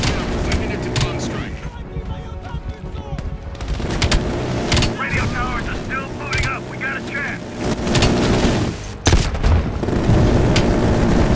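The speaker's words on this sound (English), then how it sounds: "it's a freaking minigun?" Minigun fire in the video game Call of Duty: Black Ops Cold War, dense rapid bursts of gunfire mixed with booms and battle noise, loud and continuous with brief pauses.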